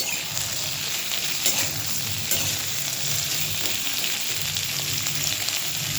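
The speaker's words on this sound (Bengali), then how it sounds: "আবার একটু নাড়াচাড়া করে নিচ্ছি" Potatoes and drumstick (sajne) pieces being stirred as they fry in a hot pan, a steady close sizzle broken by several scraping stirs, with no one talking.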